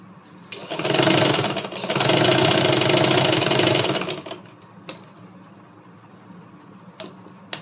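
A home sewing machine stitching a double-folded pico hem: a loud, fast whirring run of about three seconds, a brief pause, then a second run, followed by quiet handling clicks.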